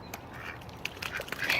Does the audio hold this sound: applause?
no